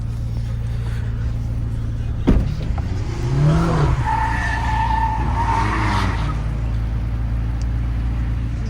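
Supercar tires spinning and squealing on a Paris street, a loud rising skid wail that holds for several seconds over a steady engine drone, with a sharp bang just before.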